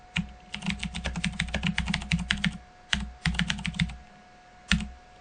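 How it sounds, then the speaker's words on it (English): Fingers type on a computer keyboard in quick bursts of close, crisp key clicks, pausing briefly between runs, with no talking. "I'm going to use the first option and just start typing something."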